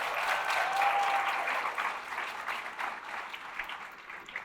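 Audience at a graduation celebration applauding together, a sustained wash of clapping that swells early and gradually tapers toward the end, with no talking over it.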